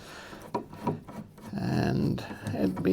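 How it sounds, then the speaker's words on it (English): Old screws squeak and rasp as they are turned out of an old Precedent stereo cabinet, a few scraping grinds in bursts, close and fairly faint, with a quiet voice underneath. "we all love to see the screws coming out"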